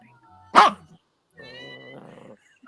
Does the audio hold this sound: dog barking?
yes